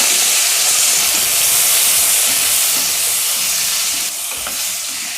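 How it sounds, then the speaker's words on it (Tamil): Tomatoes fry in hot oil for chutney while they are stirred, giving a loud, dense, continuous sizzle and hiss. The sound is close and steady and eases off slightly near the end. "இதில் இந்த எண்ணெயில் இந்த தக்காளி அப்படியே போட்டுக்கலாம்."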